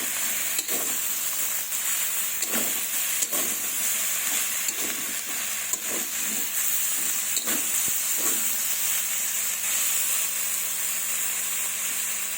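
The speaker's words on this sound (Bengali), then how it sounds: "এটাকে মিডিয়াম হিটে আস্তে আস্তে করে এটাকে ভাজবো।" Chopped onions and winter vegetables fry over medium heat in a pan with a soft, steady hiss, while light stirring clicks and scrapes recur every second or so.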